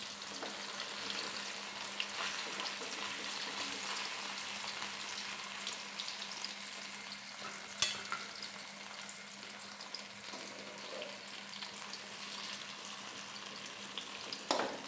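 Pieces of yam (chena) fry in hot oil with a constant soft sizzle, occasionally stirred, with one sharp clink of a utensil partway through.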